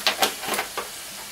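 Milk being stirred by hand into a flour and margarine sauce in a pan, a few soft scraping and wet swishing strokes close by, with no talking.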